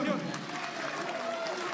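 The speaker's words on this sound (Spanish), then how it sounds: "Un aplauso para su presidente." A crowd applauds the president at the inauguration of the restored María Parado de Bellido school in Chiclayo. The clapping is fairly faint and diffuse, and a voice sounds over it.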